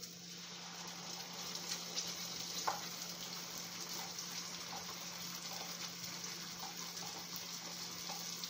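Ground onion paste frying in a pan gives a steady, quiet sizzle and hiss that runs evenly throughout, with no voices.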